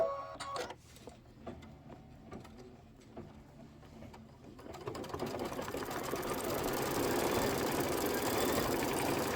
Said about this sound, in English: confirm it's the quilting, and it is, and then go ahead and stitch away